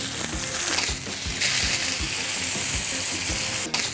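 Chicken sizzles in a hot frying pan, seared steak-style and turned every 30 seconds, a steady bright crackling hiss with faint rhythmic scraping underneath and no voices.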